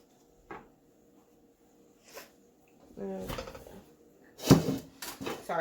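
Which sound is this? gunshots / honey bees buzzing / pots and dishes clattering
pots and dishes clattering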